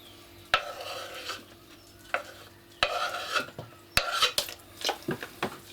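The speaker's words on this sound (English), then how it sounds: "And then I just mix that up then." Ingredients for a keto liver and bacon dish are mixed in a bowl or pan, with irregular scraping, clinking utensil knocks and rubbing strokes, fairly close and quiet.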